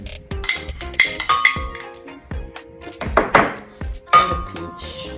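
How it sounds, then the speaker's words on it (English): Frozen raspberries and peach pieces tumble into a blender jar, giving a run of sharp clinks, knocks and thuds as the hard fruit hits glass, spaced irregularly over a few seconds without talk. "So I'm gonna add the fruits to the blender."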